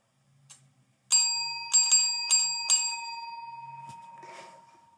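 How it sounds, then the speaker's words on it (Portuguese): A small handheld bell is struck four times in a quick, uneven sequence, bright and close, each ring decaying into a lingering shimmer, with faint soft rattles before and after. "Peguei essa campainha aqui, ó."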